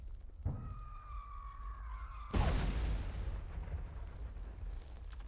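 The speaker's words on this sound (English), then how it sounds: "Stop bombing my frickin' men." Artillery shell striking in the trench-warfare game Warfare: a whistling incoming tone descends, then a loud, close explosion erupts and rumbles on, with no talk over it.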